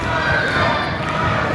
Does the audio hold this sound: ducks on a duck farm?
no